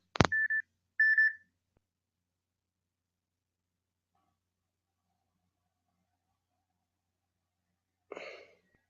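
Phone keypad dialing tones: two short electronic beeps right at the start, followed by long silence and a faint breathy rustle near the end.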